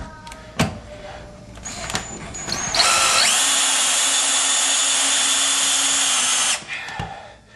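A power drill drives a screw with a bit, spinning up into a loud, sustained whine for a few seconds before stopping, with light handling noises around it.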